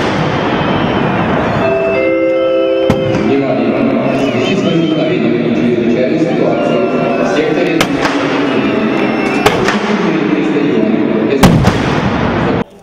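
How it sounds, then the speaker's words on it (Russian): Loud, dense firecracker bangs and crackles echo through a noisy stadium crowd of rioting football fans, with sharp pops standing out over constant roaring and shouting. "На одном из секторов разбушевавшиеся фанаты начали взрывать петарды."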